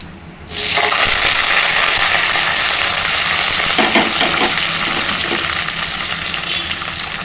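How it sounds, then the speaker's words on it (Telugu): Onion, green chili and curry leaves hit hot oil in a pan with a sudden loud sizzle that stays strong and close throughout, with faint stirring scrapes. "ఇప్పుడు ఉల్లిగడ్డ, పచ్చిమిర్చి, కరివేపాకు వేసుకోవాలండి."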